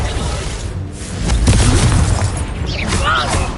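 A Confringo spell blasts in a Hogwarts Legacy fight, a loud booming burst with crackling, shattering debris. A sweeping magical whoosh trails after it, and voices shout over the battle.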